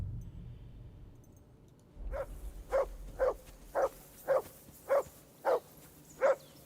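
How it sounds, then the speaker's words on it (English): A dog barks in a steady series of about eight single woofs at roughly half-second intervals, starting after a short stretch of quieter background noise; no talking. "I assume you can hear that damn dog of yours barking."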